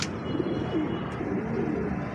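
Pigeons coo softly nearby at a pigeon market in Lahore, low throaty burbling calls over a quiet background rustle.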